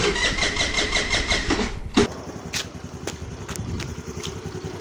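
A car engine cranks with a rapid rhythmic starter churn, then catches and settles into a steady idle, loud and close with no talk over it.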